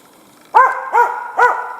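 A hunting dog, out hunting marten, gives three loud, close barks at an even pace.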